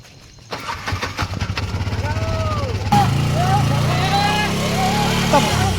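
An engine being push-started: rapid chugging pulses build as the vehicle rolls, then the engine catches and settles into a steady running hum while people talk over it.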